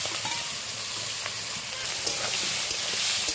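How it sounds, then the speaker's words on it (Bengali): Chopped onions and whole garlic cloves frying in oil, a dense close sizzle with occasional stirring clicks and scrapes, steady throughout with no talking. "পেঁয়াজটা নেড়ে চেড়ে গোল্ডেন ব্রাউন কালার করে ভেজে নেবো"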